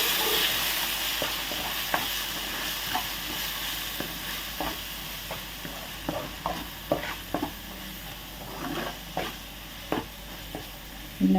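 Salt and cumin powder being stirred into a simmering fish curry in a pan: a steady frying hiss runs throughout, with irregular spoon scrapes and knocks against the pan, alone with no voices.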